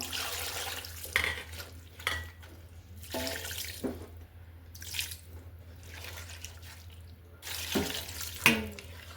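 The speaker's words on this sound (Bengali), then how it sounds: "আমি সামান্য পরিমাণ পানি অ্যাড করব।" Water added to a spiced beef mixture, heard as several short splashy pours and trickles with small clinks in between, close and moderately loud over a quiet background hum.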